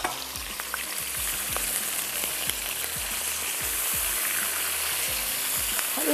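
Chicken pieces fry in a pan for a creamy garlic soup, a steady loud sizzle and crackle with occasional scraping stirs, no talking.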